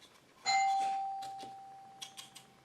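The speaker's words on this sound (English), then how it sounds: "As you hear my doorbell go," A single electronic video doorbell chime rings out clearly, a sustained bright tone that lingers and slowly fades, with faint household clatter afterward.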